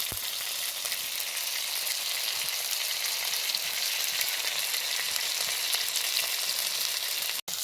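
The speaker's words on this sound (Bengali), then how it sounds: "দেখো পাতুরিগুলো এক পিঠ ভাজা হয়ে গেছিলো," Tilapia fish paturi wrapped in pumpkin leaves frying in a pan, a dense, even, close sizzle that runs throughout and cuts off abruptly just before the end.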